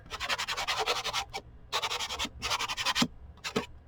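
A 150 fine grit angled sanding sponge rubs paper edges back and forth in several quick bursts with short pauses between, close and fairly soft, no talking.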